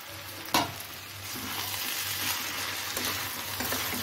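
Pre-boiled potato pieces tipped into a frying bottle gourd and prawn curry land with a sharp knock, then a steady, close sizzle and stirring carries on without a break.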